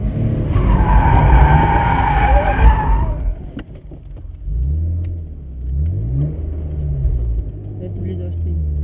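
Go-karts run on an outdoor track, one skidding with a loud tire squeal before engines buzz and rumble past at moderate distance; a person talks over the squeal at the start.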